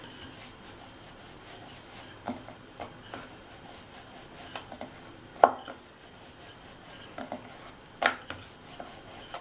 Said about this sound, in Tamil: சப்பாத்தியை தேய்ச்சிடலாம்.